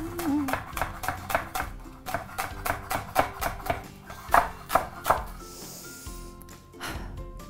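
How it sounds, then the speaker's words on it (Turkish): Rapid knife chopping of onion and herbs on a board, a steady run of sharp taps, close and clear, with brief pauses near the end. "Soğanı ve bütün yeşillikleri ince ince doğrayıp büyük bir tane"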